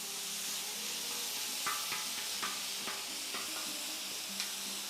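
Meat for poblano pepper boats sizzling in a frying pan, a steady close hiss with a few soft stirring clicks and scrapes scattered through it.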